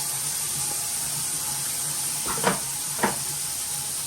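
Water flows steadily from a tap while a reef tank filter is rinsed, a constant hiss with a couple of brief clatters and splashes.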